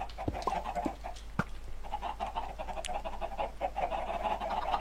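Chickens clucking in Minecraft at a semi-automatic chicken farm, a steady run of short game clucks and squawks at moderate level throughout, with no talk.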